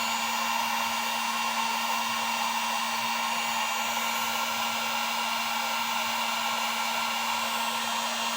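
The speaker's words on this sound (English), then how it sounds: "Nice heat shrinked work cable." A heat gun shrinks tubing onto a welder work cable, blowing a steady, loud, unbroken hum-and-hiss of fan and air for the whole stretch, with no voices.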